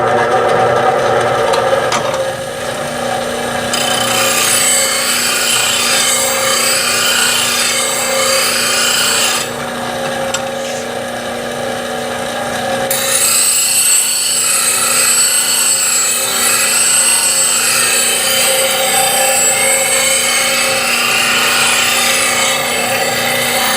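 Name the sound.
sharpening bowl gouge on grinding wheel with fixture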